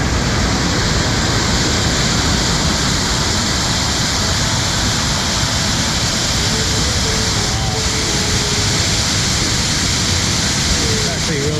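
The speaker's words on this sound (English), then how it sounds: "So this would be the lower falls." Lower falls of a waterfall near Vancouver, Canada, heard from close above: a loud, constant roaring rush of falling water filling the whole clip, with a brief faint voice-like tone partway through.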